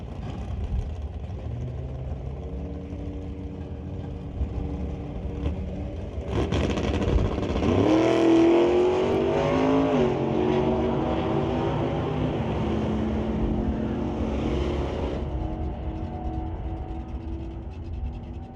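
Drag race launch of an SS Motorsports S10 against an A&A Customs Pontiac, a low engine drone jumping to a loud roaring rev that climbs in pitch for several seconds before easing back to a steady rumble.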